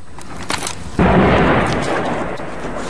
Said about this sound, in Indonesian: ledakan yang merobek sejumlah kota di Suriah